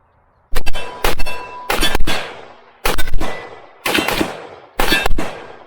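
Six sharp, loud gunshots from a Century Arms AK47 rifle, fired singly at irregular intervals about half a second to a second apart at a shooting range, each with a short ringing tail.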